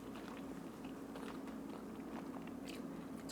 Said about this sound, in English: so that's why I'm eating it with my hands